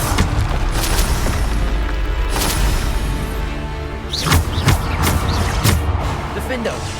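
Bombarda spell explosions in the game Hogwarts Legacy, several loud booming blasts and whooshes over a dense game soundscape, with a voice shouting over them throughout.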